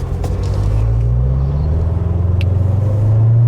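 C7 Corvette driving along, a steady loud low engine rumble from inside the car that slowly climbs in pitch, with no talking.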